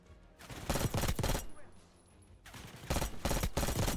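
Bursts of gunfire in Call of Duty: Black Ops 6, in a Gulf War mission set in Iraq and Kuwait, as two rapid volleys separated by a short pause; someone talks over part of it.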